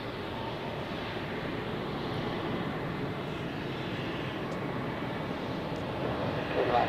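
Helvetic Embraer airliner at Zurich Airport on a Tuesday evening, a steady distant broadband jet roar that swells slightly toward the end, with some wind noise and no talk.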